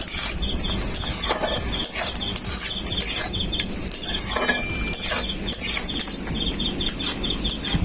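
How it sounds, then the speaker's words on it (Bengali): Sliced garlic and onion frying in a pan for chicken stew, stirred with a utensil; steady sizzling hiss under repeated light scraping and clinking strokes, close and continuous with no talk. "রসুনটা দেওয়ার পর একটু নাড়াচাড়া করে নিয়েছি।"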